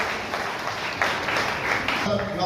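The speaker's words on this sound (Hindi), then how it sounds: "तालियां बजती रहनी चाहिए।" An audience at an electricity festival ceremony claps continuously as an award is presented. The applause is a dense, steady patter that stays level throughout while a voice speaks over it.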